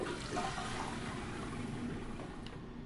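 A toilet flushing inside the video game Prey, a steady rushing wash of water that holds fairly evenly for about three seconds with no voices.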